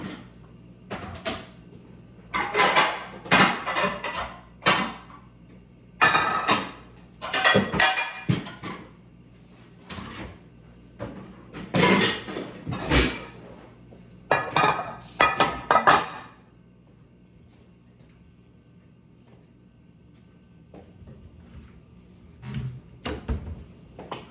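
Glass and metal baking dishes clink and clatter in a home kitchen in irregular bursts of handling noise, then go quiet, with a few faint knocks near the end.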